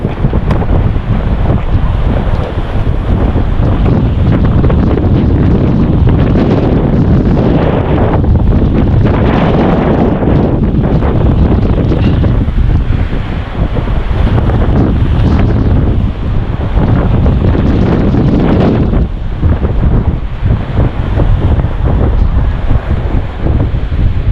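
Strong habagat monsoon wind roars continuously, buffeting the microphone with loud, gusting rumble and surging waves of noise throughout, with no voices.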